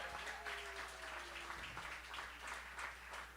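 An audience at a live concert applauds, a quiet, continuous patter of many hands clapping, with a voice faintly heard underneath.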